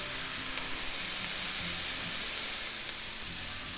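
A smash burger patty sizzles steadily on a hot griddle, a bright continuous frying hiss that stays fairly quiet and close, with no talking over it.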